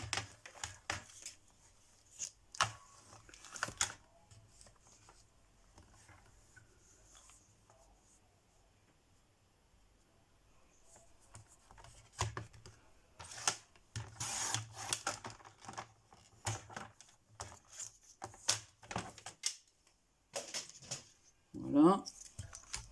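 Paper being cut for a stamped card with a watercolour background, heard as scattered scraping and clicking strokes in bursts with quiet gaps between, fairly close and soft.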